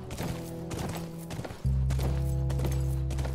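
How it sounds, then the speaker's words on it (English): Horse hooves clip-clopping in The Last of Us video game, a steady walking rhythm of muffled close strikes under a sustained low musical drone that swells partway through. "I'm on a horsey."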